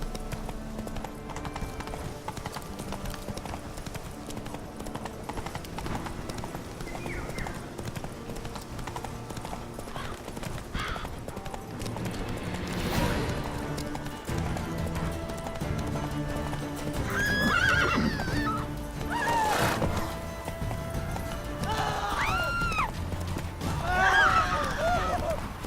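Roach, a horse in The Witcher 3, gallops with steady hoofbeats on and on, and several whinnies and neighs cut through toward the end, loud and close over a game backdrop with no talk.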